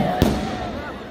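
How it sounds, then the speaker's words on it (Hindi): A single firecracker bursts sharply near the start at an outdoor college concert, then fades into a low, steady crowd murmur. "पटाखा तो बहुत फूट रहा है"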